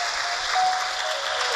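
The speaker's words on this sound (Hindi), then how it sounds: "हमारे बीच में संत महाराज पधारे, एक बार जोरदार ताली बजाकर स्वागत कर।" An audience claps loudly in a burst of sustained, dense applause, welcoming a saint during a Hindu religious discourse on Shiva lingas.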